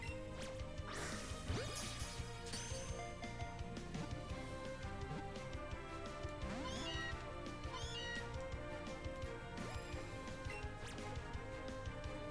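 A cat Pokémon cries in a Pokémon video game, with repeated sliding electronic meows over looping game music and occasional sharp hit and crash effects.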